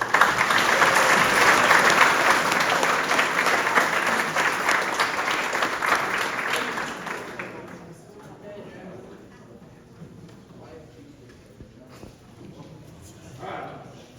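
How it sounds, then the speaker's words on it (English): Applause for a 2025 quarterback class at a football banquet, loud and sustained crowd clapping for about seven seconds, then fading to low chatter and room noise with a brief swell near the end. "so please give them a round of applause"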